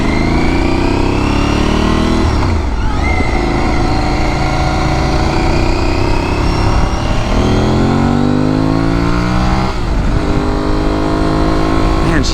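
An Aprilia Tuareg 660 motorcycle engine accelerates loudly and close up, revving up through the gears with brief dips at each shift before climbing again, continuous for twelve seconds.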